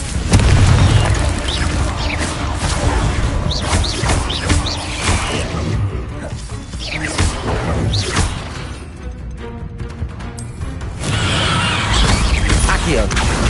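Confringo spells burst repeatedly in Hogwarts Legacy, loud booming blasts and crashes layered over a constant roar of combat effects, with a voice heard among the explosions.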